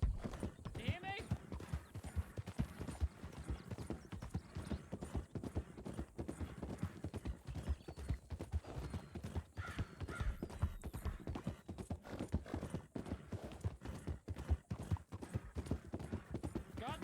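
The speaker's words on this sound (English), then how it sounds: "You gotta stop that horse, buddy." Video-game horse galloping, a fast, continuous clip-clop of hooves from start to finish with an occasional whinny, while people talk over it.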